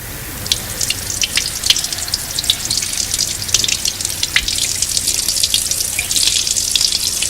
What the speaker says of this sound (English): Plenty of cold water to take away the heat as rapidly as possible.